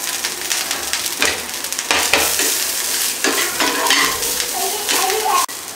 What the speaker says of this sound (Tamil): நெக்ஸ்ட்டு தேங்காவை வறுத்து எடுத்துடலாம்.